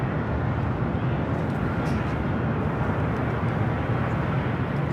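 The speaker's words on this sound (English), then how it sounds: "It's the A350-900 coming in from Taipei." A Starlux Airbus A350-900 arrives at Los Angeles International Airport from Taipei, its steady, loud roar of jet engines filling the air continuously without any talk.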